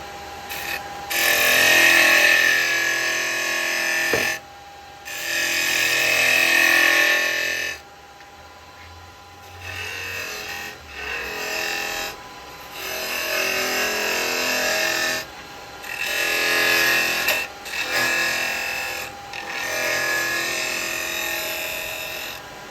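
Wood spinning on a lathe while a detail chisel cuts it, a bright steady scraping hiss in several long passes separated by quieter gaps where only the lathe hums.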